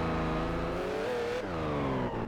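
A V12-swapped Scion FR-S in a video game revs hard and steadily, its engine note climbing and dipping in smooth harmonic sweeps while drifting in fourth gear, loud and close throughout with no talking.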